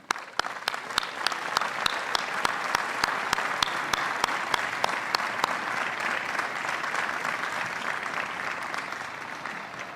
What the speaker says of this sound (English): join me in giving all of these scholar teachers a round of applause